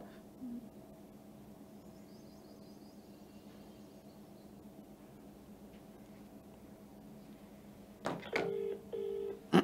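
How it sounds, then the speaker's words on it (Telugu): A phone call is placed, with faint background hum for several seconds, then a burst of dialing tones and a repeating ring tone near the end, fairly close. "ఒకసారి కాలోజీ శ్రీనివాస్కి కాల్ చేద్దాం"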